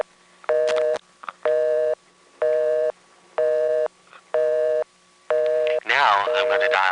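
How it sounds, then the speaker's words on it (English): A telephone busy signal from an NX1 crossbar exchange in Greenville, North Carolina, 1974: evenly spaced on-off tone bursts, about six in a row, loud and close, ending with a voice talking over the last burst. "If you flash at any other time, you go to busy signal"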